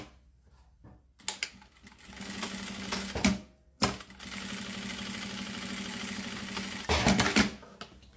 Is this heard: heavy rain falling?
no